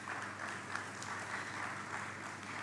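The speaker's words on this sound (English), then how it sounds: "another round of applause for the young man" Steady applause from an audience at a constitutional reform town hall in Jamaica, a dense wash of clapping hands heard at some distance, fairly quiet and even throughout.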